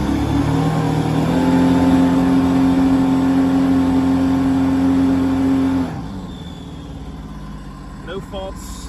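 A 2014 Sea-Doo GTX 215 engine revs steadily at a sustained, loud, constant pitch for about six seconds, then drops back toward a lower idle with a few faint clicks near the end.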